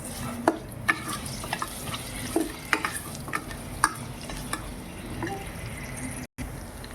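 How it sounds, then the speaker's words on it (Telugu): Garlic, cumin, mustard seeds, dried chillies and curry leaves tempering in hot oil in a pressure cooker, a close crackling sizzle with sharp pops and spatters scattered through, no voices. "వెల్లుల్లిపాయలు, జీలకర్ర, ఆవాలు, ఎండుమిరపకాయలు, కరివేపాకు తాలింపు వేసుకుంటున్నాను."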